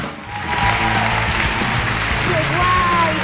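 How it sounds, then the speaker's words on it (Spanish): A theater audience at a comedy night applauds in a dense, loud wash of clapping that swells and holds steady for a few seconds, with no talk over it. "Fuerte el aplauso para estos muñecos."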